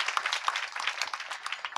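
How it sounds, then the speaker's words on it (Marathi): An audience claps at a kirtan, a dense, lively patter of many hands that sounds close and stays fairly loud with no voices over it. "जोरदार टाळी वाजवा"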